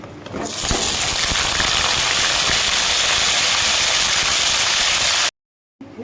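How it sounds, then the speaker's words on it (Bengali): Cut pointed gourd (potol) slices fry in hot oil already used for frying potatoes, giving a loud, steady, close sizzle that runs unbroken for several seconds before stopping abruptly. "তেলটা গরম হয়ে গেছে তো এখানে কেটে রাখা পটলগুলো ভেজে নেব"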